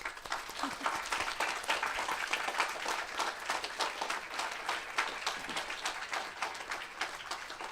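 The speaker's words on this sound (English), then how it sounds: "Let's give a big round of applause for our books." An audience at a young authors' book launch applauds the books in a sustained, dense round of clapping from a crowd in a hall that holds steady for several seconds.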